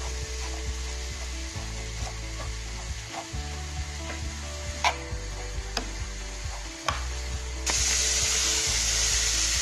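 Grated carrots fry in a pan, giving a steady close sizzle with occasional scraping and stirring clicks. The sizzle grows louder and brighter near the end.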